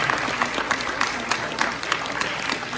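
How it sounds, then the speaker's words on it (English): Another round of crowd applause at a Pongal festival gathering as mementos are presented, a dense patter of clapping with a few sharper individual claps. "Please, another round of applause."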